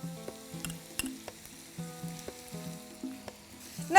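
Onion frying in oil with slit green chilies, ginger and garlic for a chicken tikka pulao, a soft close sizzle with occasional light clinks of a utensil over faint background tones.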